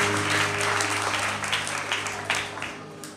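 A church congregation at a Free Methodist church in Fontamara applauds warmly, steady clapping from a crowd throughout, heard at moderate distance with a sustained hum or organ tone underneath.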